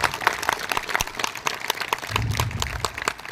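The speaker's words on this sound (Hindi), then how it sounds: "एक बार तालियां इनके लिए" An audience at an achievers' award event applauds, a dense patter of hand claps throughout that stays steady and fairly loud from start to finish, with no voices over it.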